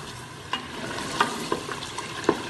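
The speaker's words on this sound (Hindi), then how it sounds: "अब मसाले को हम अच्छी तरह से फ्राई करेंगे।" Masala spices frying in a pan for rajma, a steady close sizzle with a few sharp clicks of a spoon stirring against the metal.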